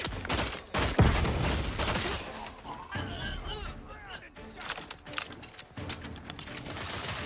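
Grenade blasts and gunfire crackle densely through a firefight in The Outer Worlds 2, loud booms and rattling shots layered over a busy battle mix with a voice calling out briefly mid-clip.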